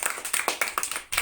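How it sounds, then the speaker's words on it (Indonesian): A small group of students claps in a classroom, a short burst of quick, fairly even claps in a loose rhythm, close and moderately loud, ending with one last clap. "Tepuk tangan sekali lagi,"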